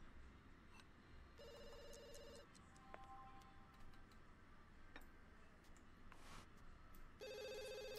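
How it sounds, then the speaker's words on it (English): A telephone rings in The Sims 2, two bursts of electronic trilling separated by a pause, over quiet game ambience with small ticking and clicking sounds. "I don't know who that is on the phone"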